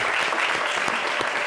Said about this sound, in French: Ça s'applaudit très fort.